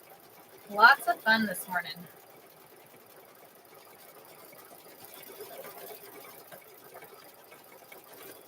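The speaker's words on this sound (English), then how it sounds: "now we've loaded it in the embroidery machine, and we've been doing this quilting on here" An embroidery machine quilting a cow quilt hums softly and steadily in the background, faint and continuous, with someone briefly talking over it at the start.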